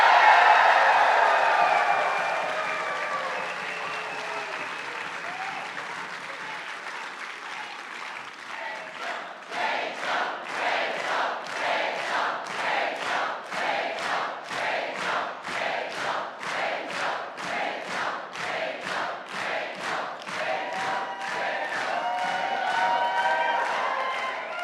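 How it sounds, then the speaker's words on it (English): Lively political rally crowd for Premier Rachel Notley, opening with loud cheering and whoops that fade, then breaking into rhythmic chanting and clapping in steady pulses that builds toward the end. "Just a wee bit of a lively crowd, eh?"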